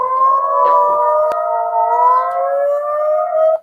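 Loud layered Dallas, Texas emergency civil defense sirens, all sounding at once at night, wail together in a sustained, slowly wavering howl, heard from a tall building, with no speech and a brief click partway through.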